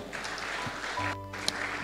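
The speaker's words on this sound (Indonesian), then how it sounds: "Beri tepuk tangan buat Tuhan kita" A church congregation applauds, a diffuse patter of many hands clapping at a moderate distance, with a sustained keyboard tone sounding underneath.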